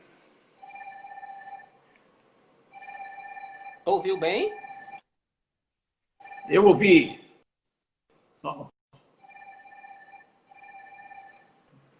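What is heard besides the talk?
telephone ringing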